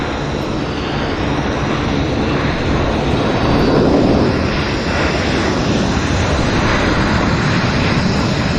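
An airliner roars steadily down the runway at Vancouver airport and lifts off, its broad engine noise loud and constant throughout, swelling slightly midway with no voices.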